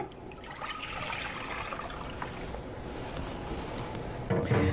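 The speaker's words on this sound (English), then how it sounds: "So we're going to start off with 4 cups of whole milk." Whole milk for vanilla pudding pours in a steady liquid stream for several seconds, with a louder splash near the end.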